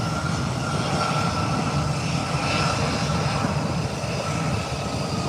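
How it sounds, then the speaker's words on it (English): An Airbus A319 airliner taxiing toward the runway gives off a steady, loud jet engine roar, a continuous broadband rumble with a faint whine that stays even throughout. "It's an Airbus 319. And it's now on the runway, heading to the threshold of the runway"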